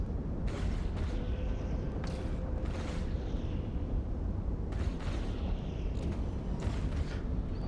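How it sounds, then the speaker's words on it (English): Ship turrets firing in EVE Online, heavy booming shots with creaking mechanical tails repeating at irregular intervals over a dense, constant rumble. "Would be good if you would switch targets so we can listen to your turret sounds"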